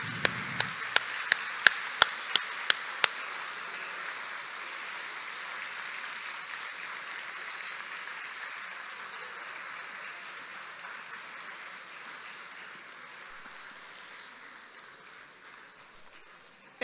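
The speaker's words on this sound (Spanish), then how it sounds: "le den un caluroso, fuerte voto de aplauso por todo el apoyo que nos han brindado" An audience at a professional registration ceremony applauds graduates' families, a broad steady wash of clapping from a large room that slowly fades, opening with a few sharp knocks.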